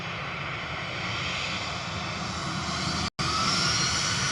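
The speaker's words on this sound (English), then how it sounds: "just touching down, 737-800 GRUKB" A Boeing 737-800 touches down at Manchester Airport, its jet engines a broad, steady roar heard from a distance, with one brief dropout near the end and no voices.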